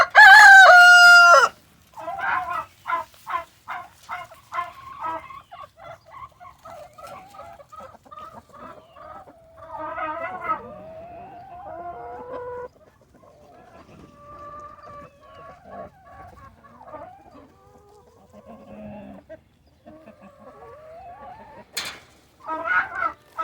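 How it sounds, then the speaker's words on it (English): Chickens in a coop in the morning, starting with a loud rooster crow, then a run of clucks and murmured calls from several hens, some close and some softer, with a short squawk near the end. "We got a lot of chickens still in the coop this morning."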